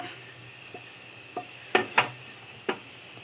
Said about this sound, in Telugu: సో ఇట్లా మిరప గింజలు అయితే మంచిగా ఫ్రై అయ్యేటట్టు ఫ్రై చేస్తున్నాము